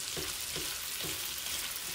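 Potatoes, peppers, onions and smoked turkey sausage sizzle steadily in a pan while a spatula stirs them in a regular rhythm of soft scraping strokes, close up and without speech.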